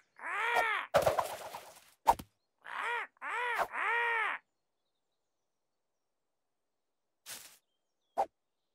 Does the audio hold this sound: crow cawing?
yes